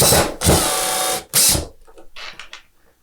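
A power drill drives a screw into a wooden whiteboard frame in two loud, whirring bursts, then trails off into quieter clicks and handling sounds.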